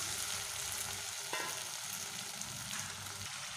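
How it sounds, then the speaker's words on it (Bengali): Fried vegetables sautéing with spices in hot oil for a vegetarian taro dish: a soft, continuous sizzle with a single sharper stir or scrape partway through, faint and without any voice. "এইবার আমি এখানে আমার ভেজে রাখা সবজিগুলোকে আমি এখানে দিয়ে নিচ্ছি"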